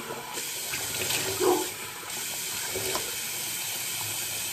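Running water splashes from a tap into a basin, rinsing after a shave, a steady flow with brief swishes and gurgles, close by and moderately loud.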